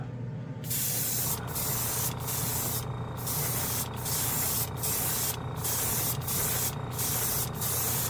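A Gaahleri trigger airbrush with a 0.5 mm nozzle, fed by a dual port compressor, sprays paint in a loud, steady hiss, broken by several short pauses as the trigger is released and pulled again.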